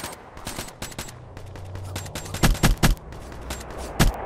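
Black Ops 3 team match gunfire: quick automatic bursts and single sharp shots, several loud close reports clustered together, then one more a moment later, over game background noise.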